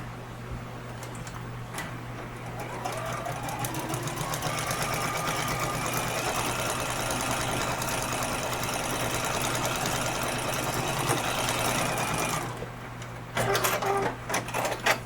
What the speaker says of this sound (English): And then we flip it right on over. And we sew this seam.